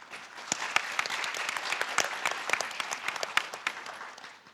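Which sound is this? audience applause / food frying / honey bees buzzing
audience applause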